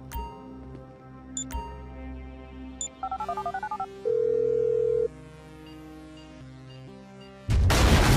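Mobile phone dialing in Grand Theft Auto 5: a few clicks, a quick run of keypad beeps, then a steady tone followed by a loud burst of noise at the end.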